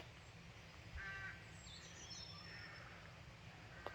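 Rooks cawing in a churchyard in daylight, a few harsh calls in the middle distance over a steady low outdoor rumble, with one sharper click near the end.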